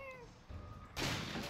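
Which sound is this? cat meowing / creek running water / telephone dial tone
cat meowing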